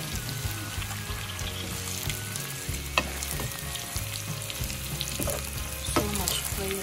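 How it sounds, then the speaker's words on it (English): Beef tongue frying in a pan, a close continuous sizzle and crackle with a few sharper knocks from a utensil as it is turned. "Been cooking for a few minutes, so I'm flipping it side."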